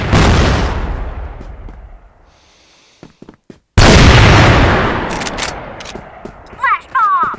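Flash bomb detonations in a video game, a loud burst fading into a quiet stretch with sharp clicks, then a second heavy blast ringing out, followed by brief crackling bursts.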